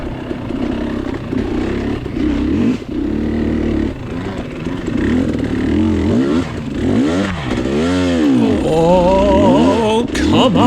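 A KTM dirt bike engine revs and bogs through a muddy, rutted hare scramble race section, loud and close, surging up and down in uneven bursts with scraping and clattering.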